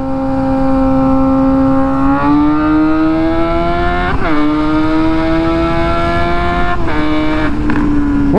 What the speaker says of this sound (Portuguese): Nossa, que delícia de poder acelerar essa moto